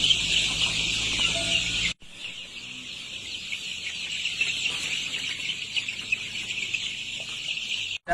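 A flock of about a thousand twelve-day-old Sonali chickens in a poultry shed, a dense continuous chorus of high peeping and clucking at steady volume, with no talk.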